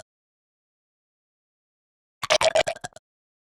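Designed creature gargle layered with rapid throat clicking made by a chopper effect, a short burst of wet, rattling, pulsing texture arriving after a long silence and lasting under a second, close and fairly loud.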